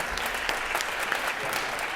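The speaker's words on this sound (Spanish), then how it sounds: "Un aplauso." An audience at a round-table conference on social networks applauds steadily, a continuous wash of clapping from a crowd throughout.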